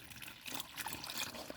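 Water trickles from a cup poured out for Nala, a female dog, inside a car, a faint, thin, continuous stream of pouring and splashing lasting under two seconds.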